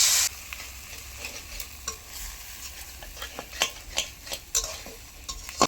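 Bengali-style spice paste frying and being stirred in a pan for a prawn curry, with a steady low sizzle and repeated sharp scrapes and clicks of a spoon against the pan, close up and without talk.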